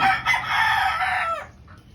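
A pure white Kelso brood stag rooster crows once, loud and close, a single drawn-out call that cuts off sharply near the end.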